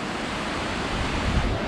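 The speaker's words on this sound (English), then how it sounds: "Wow, this is like a whole mountain, a whole side of the hill of waterfalls." Waterfalls pouring down a hillside in Iceland, a loud, steady broadband rush of falling water with faint wind buffeting, continuous and close, with no voices.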